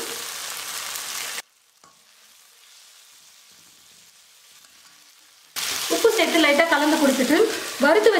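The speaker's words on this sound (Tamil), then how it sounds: "ரெண்டு நிமிஷம் நல்லா வதக்கிட்டேன் நம்ம சேர்த்து இருக்கிற தக்காளி வந்து தெரியணும்" Tomatoes fry in a pan for tomato upma, heard as a steady sizzle that breaks off into near silence and returns louder later, mixed with a tonal, wavering sound near the end.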